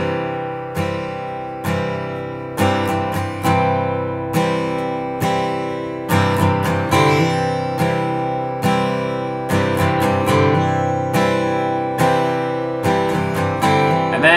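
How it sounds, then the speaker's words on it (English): An acoustic guitar strums chords in a triplet pattern, each beat split into three quick strokes, played slowly and evenly with clear, ringing attacks and no talking. "One of the harder things about doing more advanced strumming, like triplets, where we take a beat and turn it into three different strokes"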